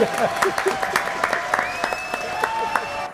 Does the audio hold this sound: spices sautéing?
no